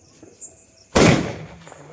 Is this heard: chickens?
no